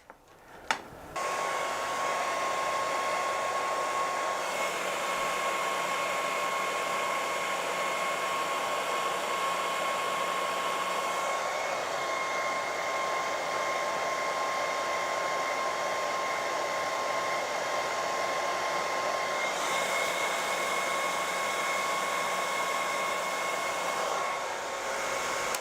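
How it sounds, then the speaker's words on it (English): A hairdryer blows a steady, loud, continuous whoosh with a constant whine, aimed at a small wind turbine. It starts with a brief click and runs for about twenty-five seconds, its tone shifting slightly partway through. "we've got a hairdryer"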